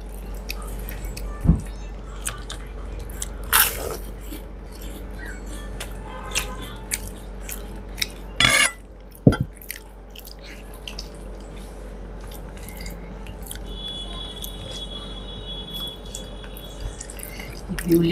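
Close, wet chewing and slurping of rice with biulir dal, aloo posto, begun bhaja and beguni brinjal pakora, with soft squishy mouth sounds and a few sharper bites and clicks, otherwise quiet with no talk.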